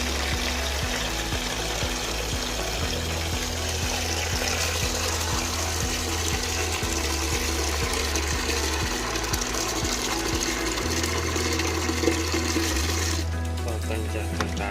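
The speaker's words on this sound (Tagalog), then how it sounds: "So, lagay tayo ng tubig." Deep-well water fills a 12-liter plastic storage box used as a betta breeding tank, a steady rushing pour over a rhythmic pump-like ticking and motor hum that shifts near the end.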